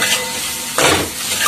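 Mashed potatoes being stirred and fried with spices in a pan for chickpea ghugni, heard as close, loud scraping and sizzling strokes with a stronger burst near the middle.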